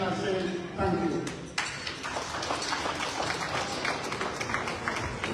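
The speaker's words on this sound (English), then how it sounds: "please give him a hand of applause, please" Audience at the VOA Toronto Torchbearers Award 2025 ceremony breaks into sustained applause, a dense wash of many hands clapping in a hall that follows a brief spoken line and continues steadily.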